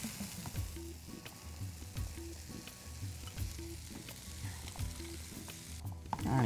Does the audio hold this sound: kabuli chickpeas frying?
yes